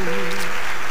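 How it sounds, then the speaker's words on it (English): Applause from a played Christmas music recording, a steady wash of clapping with a faint sustained tone underneath, brief and fairly loud. "The applause goes on and on and on, doesn't it?"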